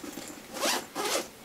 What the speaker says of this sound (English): So it actually zips open,